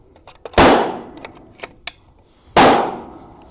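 Two loud rifle shots from a Savage Axis Sweedmoor firing 46-grain handloads into a berm, each a sharp crack with a long decaying tail, about two seconds apart, with faint clicks and handling noises between them.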